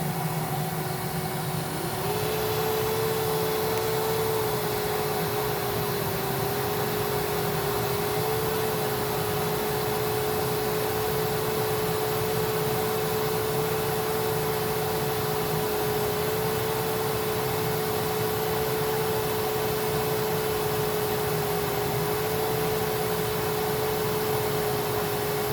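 A Kenmore Whispertone vacuum cleaner runs with its nozzle off, giving a constant broadband rush with a steady whining tone that rises in just after the start and holds for the rest.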